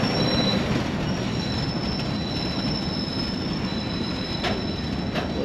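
An empty freight train passes on the down line at Padidan Junction railway station in Pakistan as its brakes are applied, producing a steady, loud rumble of wagons and wheels with a continuous high metallic brake squeal and no voices.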